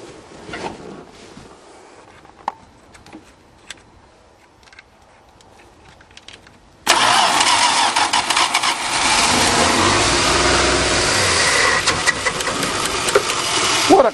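A 1977 Dodge van starts up: a few quiet clicks and shuffles, then at once the engine catches and roars into a loud, steady running rumble that carries on to the end.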